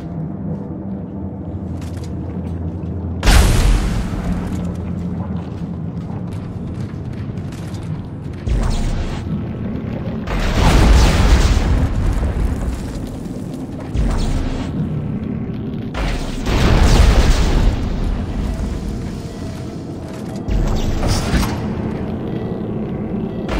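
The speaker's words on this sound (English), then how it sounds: "Nitrogen trichloride. Those explode if they overheat." Nitrogen trichloride tanks exploding in a video game, several deep booming blasts with heavy rumble rising over a constant low background, spaced a few seconds apart.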